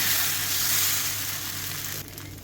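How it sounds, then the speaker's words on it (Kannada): Dosa batter, made from only four ingredients, sizzles steadily on a hot tava as it is spread thin, a close, loud, continuous frying hiss that eases slightly toward the end, with no voices. "ಬಿಸಿಯಾದ ನಂತರ 1 ಸೌಟು ಹಿಟ್ಟನ್ನು ಹೀಗೆ ಹಾಕ್ಕೊಂಡು ತೆಳ್ಳಗೆ, ಎಷ್ಟು ತೆಳ್ಳಗೆ ಬೇಕು ಅಷ್ಟು ತೆಳ್ಳಗೆ ಅದನ್ನು ಸ್ಪ್ರೆಡ್ ಮಾಡಿಕೊಂಡ್ರೆ ಆಯಿತು"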